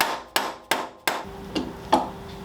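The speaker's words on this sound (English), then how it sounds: "I don't have anything to go over the stem to hammer down the bearing" Hammer striking to drive a bearing down onto a motorcycle steering stem during a front-end swap on a Honda CM450 café racer, four sharp evenly spaced metallic blows followed by two softer hits, close up with no talk.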